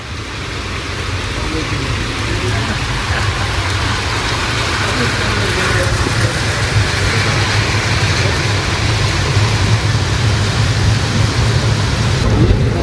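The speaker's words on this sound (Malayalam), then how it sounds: "നല്ല മഴയാണേ" Steady, dense rain roars throughout, a heavy broadband wash with a low rumble underneath, loud and continuous.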